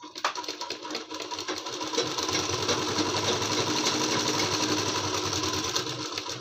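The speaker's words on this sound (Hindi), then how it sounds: "पहले पार्ट्स के ऊपर हमने कली को डाल दिया है, अब 1/2 इंच पकड़ते हुए इसकी सिलाई लगाएंगे।" An electric sewing machine runs continuously as it stitches Patiyala dhoti salwar fabric panels, a fast even whirring rattle that is close and fairly loud, with a brief start at the beginning.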